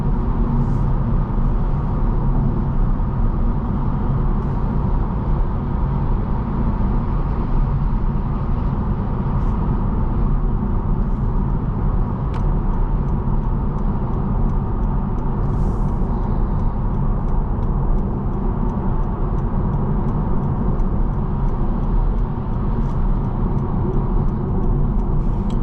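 A 2025 Honda Civic Hatchback cruises at light throttle, its engine and road noise forming a steady, even rumble from inside the cabin with no sharp changes throughout.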